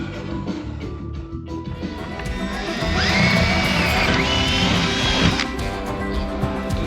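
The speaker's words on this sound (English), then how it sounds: "Drill out our corners here." A power drill whirs steadily at close range while drilling out corners, rising in intensity midway with a high-pitched grinding whine, over a continuous mechanical drone.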